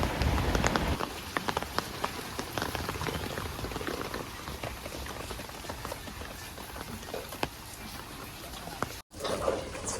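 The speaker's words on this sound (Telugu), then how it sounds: "ఇప్పటిదాకానైతే ఫుల్ వర్షం అయితే కొట్టింది" Heavy rain falls outdoors during a farm baler repair, a steady close patter of drops on surfaces with occasional louder splats, briefly cutting out near the end before resuming.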